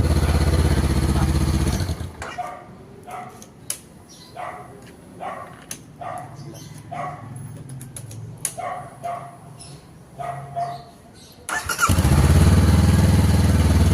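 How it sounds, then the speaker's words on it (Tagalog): A 2023 Honda CBR500R motorcycle engine roars loudly at the start and again at the end, with a quieter stretch between where a dog barks in short repeated yips. "Start the motorcycle successfully."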